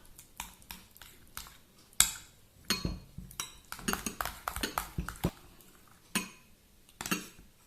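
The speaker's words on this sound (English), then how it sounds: "To 1 part, I'll add in some rose syrup and mix it up" A spoon stirs rose syrup into rice custard in a glass, producing a quiet series of irregular clinks and taps against the vessel, close and with no talk.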